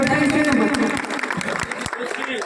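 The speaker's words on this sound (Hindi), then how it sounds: "एक बार जोरदार तालियों से स्वागत कीजिए" Crowd applause at a welcome ceremony for a new party member, a short burst of many hands clapping that fades quickly, with a voice talking over it.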